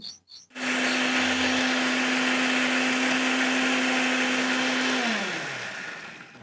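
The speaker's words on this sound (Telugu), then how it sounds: "ఇవి అన్నిటినీ మిక్సీ పట్టేసుకున్నాం" A mixie grinder blends soaked urad dal into batter for hotel-style vada: a loud, steady motor whine starts abruptly and runs alone for several seconds, then drops in pitch as the motor slows.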